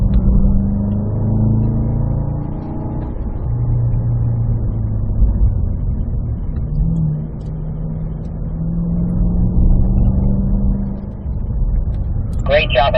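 Cadillac V-series car accelerating hard on a race track straight, a loud sustained engine note rising through the gears with harmonic sweeps, heard from inside the car, with a brief chirp near the end.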